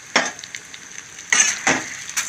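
Chana dal and urad dal fry in a pan, with a faint steady sizzle under several close scraping stir strokes from a spoon.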